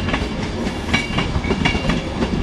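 A train bound for London King's Cross passes near Doncaster, loud and close, with rapid rhythmic clickety-clack of wheels over rail joints under a continuous rumbling roar.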